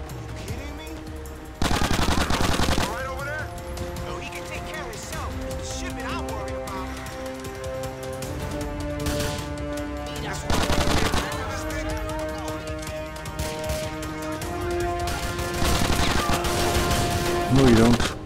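Automatic gunfire in the GTA: The Ballad of Gay Tony shipping-yard shootout, with sustained machine-gun bursts and sharp louder volleys punctuating a constant rattle of shots throughout.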